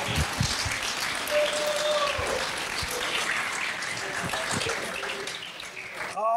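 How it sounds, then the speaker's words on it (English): Live podcast audience applauding and cheering as a wrestler guest is welcomed onstage in Australia, a dense steady wash of clapping lasting throughout, with a brief voice near the end. "give him half an applause,"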